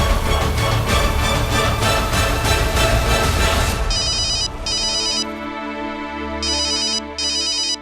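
A telephone rings in bursts of an electronic ringtone, first under heavy background music and then alone in short repeated trills with pauses between them, at home during a Hindi TV serial scene.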